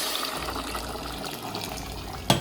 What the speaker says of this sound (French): on ajoute le double d'eau